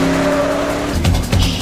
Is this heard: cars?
yes